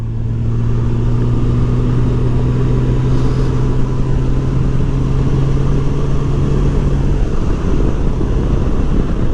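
A Honda Gold Wing motorcycle cruises along a road in the late afternoon. Its engine gives a steady, droning hum under constant wind rush, with no one talking.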